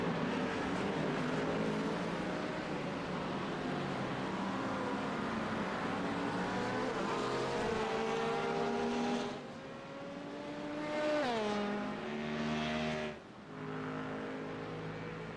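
Race cars at the 24 Hours of Zolder endurance race give a loud, sustained engine drone, with a car passing close by and its pitch sweeping downward before the roar continues.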